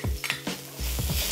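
Ginger tossed into a hot pan sizzles in a steady hiss, with clinks and scrapes of stirring near and fairly soft, no talk over it.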